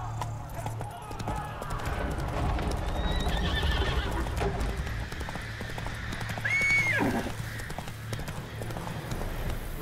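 Roach the horse gallops in The Witcher 3, hooves clip-clopping in a quick steady rhythm with a loud whinny partway through, set against a continuous low ambient bed.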